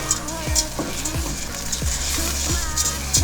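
Basmati rice sizzles steadily in a pan of hot oil and melted butter, a continuous frying hiss broken by repeated scraping stirs at close range.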